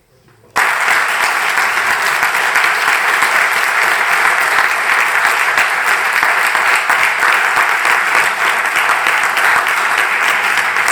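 At a book presentation on mindfulness for engineers, an audience breaks into loud, sustained applause that starts abruptly and continues evenly for around ten seconds.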